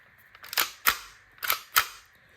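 Plastic clicks and clacks come from a Tokyo Marui Hi-Capa airsoft pistol as its magazine is released and pulled out: four sharp, close handling snaps in two quick pairs against a quiet room.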